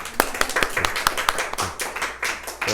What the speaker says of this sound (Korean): 환영한다고 박수 한번.